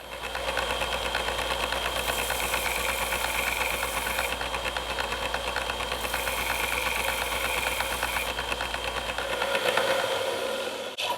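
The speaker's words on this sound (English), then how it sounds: "I have a little belt sander here, and I would take my belt sander" A small belt sander grinding a dull chisel, a steady buzzing motor drone with a continuous abrasive hiss that holds even for about eleven seconds, no talk.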